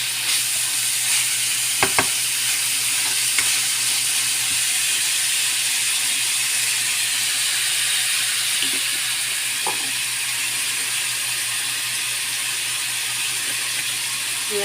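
Beef sautéing in a pan for adobong kangkong gives a steady, close hiss that runs throughout, with a few brief clinks of a utensil against the pan and no talking.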